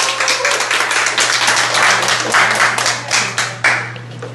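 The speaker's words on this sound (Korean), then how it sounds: "큰 박수 부탁합니다." An audience at a Democratic Party members' speech event applauds, a dense burst of many hands clapping close and loud, with a steady hum underneath and individual claps trailing off toward the end.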